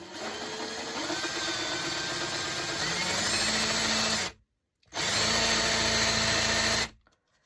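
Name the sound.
power drill boring through birdhouse wood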